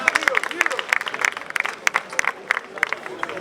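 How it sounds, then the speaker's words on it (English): An audience applauds in a quick, uneven patter of hand claps, loud and close, steady for a few seconds with scattered sharper claps standing out. "Let's clap for him."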